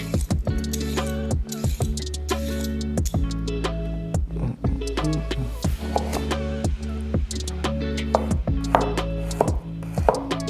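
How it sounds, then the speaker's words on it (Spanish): A knife chops carrot into fine julienne on a board, a fast, close, even run of crisp wooden taps that keeps going almost without pause. "La zanahoria igual, la podéis rallar o la podéis picar en juliana"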